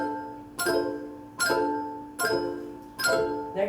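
A handbell rings four times at an even, slow pulse during a bell class, each strike bright and ringing with a long fading tone, close and clear.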